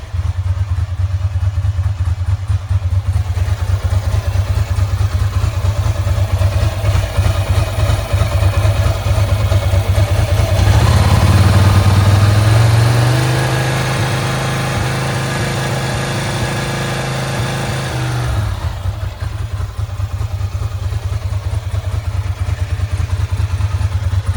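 A Ducati 907IE motorcycle engine runs steadily up close for the whole stretch with a loud, even throb, briefly rising in pitch midway before settling back to a steady idle.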